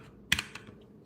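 A GMMK Compact mechanical keyboard key press, one crisp, close click followed by a softer click as the key returns.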